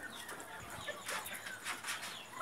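Chickens cluck faintly and intermittently in a hot yard, with soft scattered calls and light rustling, quiet and somewhat distant.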